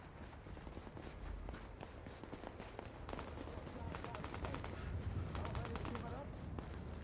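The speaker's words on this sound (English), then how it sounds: "I think the NPCs are shooting at each other" NPC gunfire in the survival mode of the video game The Division, distant bursts of automatic fire and scattered shots rattling in clusters under a player's talking, with some footsteps.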